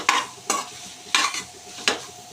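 Cauliflower masala curry being stirred and fried in a pan, with five rhythmic bursts of spatula scraping over a soft continuous sizzle, close-up and without any voices.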